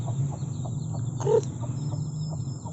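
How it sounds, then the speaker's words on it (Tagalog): Chickens cluck softly in a homemade coop over a steady low hum. One louder, brief call rises near the middle. "Andiyan guys, yung manok ko"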